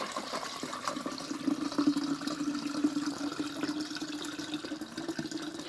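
Lemon vinegar strained through a sieve into a jar, a steady, close trickling pour of liquid with faint splashing, continuous throughout.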